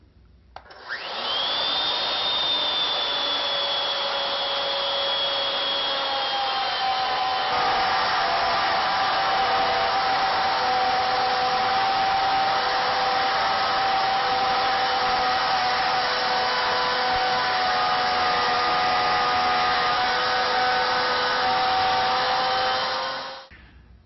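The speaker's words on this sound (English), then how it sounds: "We'll bring it to the center point, and then we will cut towards the headstock end." A router cuts a wooden candlestick turned on a lathe, giving a steady high-pitched whine that holds for about twenty seconds with a slight drop in pitch, close and continuous, with no talk.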